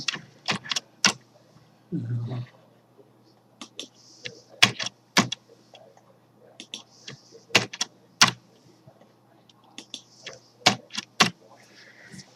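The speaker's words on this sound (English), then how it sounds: "just highlight them and hit the delete key on the keyboard" Sharp, separate key clicks from a computer keyboard as keys are pressed and a delete key is hit while highlighting in bowls software, coming in irregular bursts with short pauses and one brief low thump.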